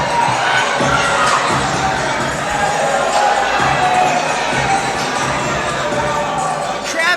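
A loud crowd cheers, shouts and claps for a champion at a No Limits basketball event, with excited children's shouts rising over the continuous roar.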